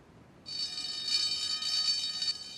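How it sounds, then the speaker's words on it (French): A shrill electric alarm bell rings continuously for about two seconds after a brief quiet start, bright and metallic, in a Thomas and Friends animated episode. "la sonnette d'alarme retentit à nouveau"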